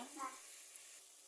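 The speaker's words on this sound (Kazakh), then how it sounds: "Өзін қуырып алам, әбден суы тартылғанша." Pre-stewed meat fries in a kazan pot as its liquid cooks off for homemade lagman, giving a faint, steady sizzling hiss with no talk.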